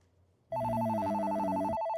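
A telephone rings in an office with a steady electronic trill that cuts in loudly after half a second of quiet and holds unbroken before stopping near the end.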